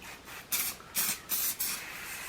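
A worn, hard-to-read jump starter case being wiped and rubbed clean: four short, scratchy scrubbing strokes in quick succession, close and fairly quiet, with no talking.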